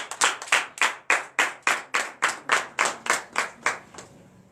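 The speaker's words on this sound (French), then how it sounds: "donnez de vives acclamations à l'Éternel encore" A church congregation at a Sunday service claps in unison, about a dozen sharp, evenly spaced claps in a steady rhythm that fade at the close. No cheering stands out.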